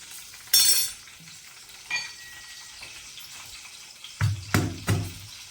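Curry leaves and garlic fry in hot oil for a tempering: a sharp crackling sizzle bursts once, then fainter frying, followed by a few clattering stirs near the end.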